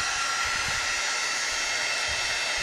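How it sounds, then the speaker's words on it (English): A heat gun blows while drying paint for a resist technique. A loud, steady airy whoosh runs continuously without talk. "you wouldn't have to get out the heat gun"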